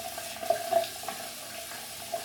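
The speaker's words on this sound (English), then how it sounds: "I'm gonna wet my face again now, and we can start." Water running steadily from a tap into a sink while a face is wetted before shaving, a close, soft continuous flow with small splashy bumps from hands in the stream and no talking.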